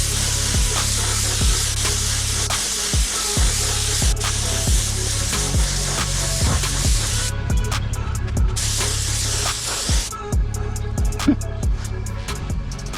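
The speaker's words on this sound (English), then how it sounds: "And let's spray it down." A spray gun hisses steadily and loudly for a long stretch, spraying tinted black clear coat over gold paint, with brief pauses near the end and faint knocks underneath.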